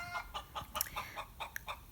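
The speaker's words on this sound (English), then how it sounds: "Somewhere, hidden in the inner workings, a chicken clucked impatiently." A chicken clucks impatiently from somewhere inside a mechanical breakfast-making device, a quick run of short, close clucks with no other sound around them.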